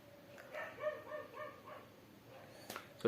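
A dog barks outside in a short run of yips and barks, fairly faint and set back from the listener, over a quiet background.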